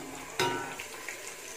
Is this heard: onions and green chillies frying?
yes